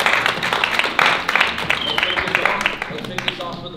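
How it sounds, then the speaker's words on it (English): Applause from a crowd at the Beyond Built Las Vegas retreat in 2022: dense, steady clapping that lasts the whole few seconds, with cheering and voices mixed in. "I just want a round of applause for them."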